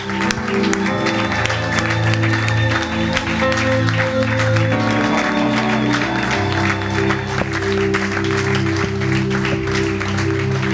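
An audience claps and cheers to welcome a visiting bishop from England, steady applause running under sustained music that holds loud for the whole stretch.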